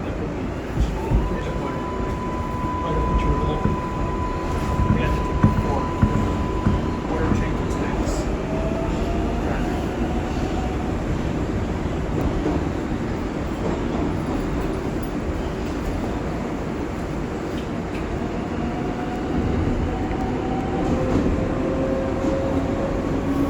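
An IRT R142A 6 local subway train running between stations, a loud, continuous rumble and rattle with rising whining motor tones and occasional squeals, steady throughout.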